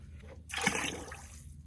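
Water poured into a ceramic dipping glaze mix, one brief soft splash and trickle, close and faint.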